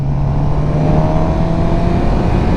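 Sport motorcycles on a group ride, a Suzuki GSX-R600 with a Yamaha R6 and a Ducati, give a steady, loud engine drone with a constant low hum and continuous wind rush throughout, no talking.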